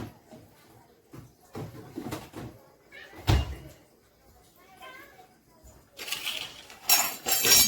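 A bowl of marinated fish goes into a home kitchen fridge: door and cupboard-like thuds, dish clinks and rustling handling noises, with a bright hiss and clatter toward the end.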